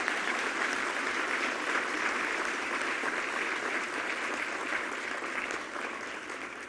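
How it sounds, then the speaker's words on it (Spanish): Sustained, dense applause from a large audience at the opening of a national forum of Indigenous and Afro-Mexican peoples, steady and full before easing slightly near the end. "le pido por favor a todos un aplauso a todo este equipo para hacer posible esto."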